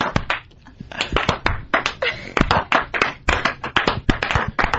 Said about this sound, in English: That slow clap.